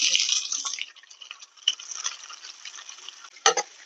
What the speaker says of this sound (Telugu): వెంటనే మనం చాప్ చేసుకున్న ఆనియన్స్ వేసుకోవాలి.